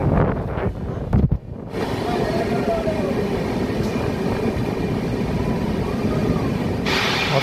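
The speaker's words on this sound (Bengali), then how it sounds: "এই ডুয়ার্সের রেলপথে এখন আমরা টানেলের ভেতরে রয়েছি।" A train running through a railway tunnel on the Dooars line, a steady loud rumble with wind-like rushing that holds throughout after a brief rougher stretch at the start.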